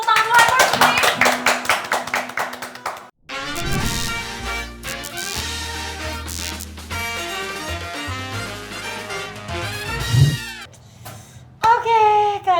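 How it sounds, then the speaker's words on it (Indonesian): A talk-show studio audience claps briefly to welcome a guest, a burst of hand clapping near the start that quickly gives way to music and talk. "boleh tepuk tangan dulu first please"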